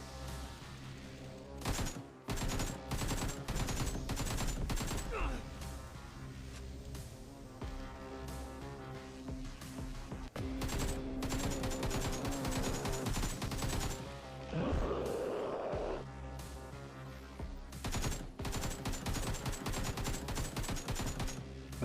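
AK rifle fire in a survival video game, with rapid repeated bursts of loud sharp shots in several volleys and short pauses between them.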